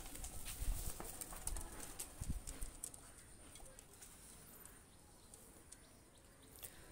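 A pair of golden running pigeons is released, giving a few quick bursts of wing flapping close by in the first seconds before settling into faint outdoor background.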